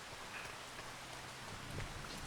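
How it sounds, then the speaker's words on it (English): Rain in Farming Simulator 25 falls as a faint, even patter and hiss, distant and steady throughout with no other sounds. "since it's already 6 o'clock and it's raining"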